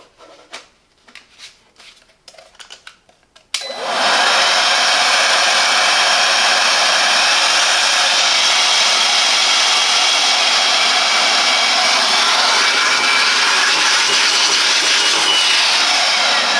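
A few soft handling knocks, then a Parkside PAUGB A1 20V cordless blower switches on and roars with a loud, steady rushing airflow and motor whine that holds unbroken to the end.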